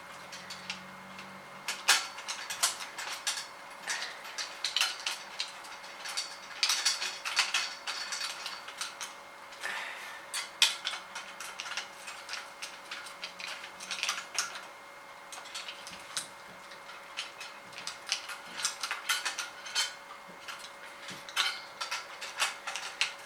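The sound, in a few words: tightening screws while assembling a shoe rack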